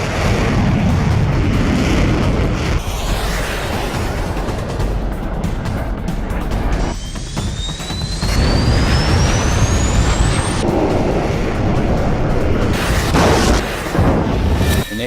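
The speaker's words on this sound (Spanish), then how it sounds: "escucho una explosión muy fuerte" A loud, sustained explosive roar with deep rumbling that swells and surges, joined midway by a rising whine: a missile explosion heard from inside a military aircraft in air combat during the Falklands War.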